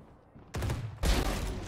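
Two gunshots in a video game fire in quick succession, sharp and loud blasts with a short echoing tail after each.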